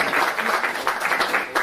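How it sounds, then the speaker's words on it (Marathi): Audience applause at an award ceremony welcoming dignitaries, a lively burst of many hands clapping throughout, fairly loud and close, with no talk over it. "मान्यवरांचं टाळ्या वाजून पुन्हा एकदा स्वागत करूया."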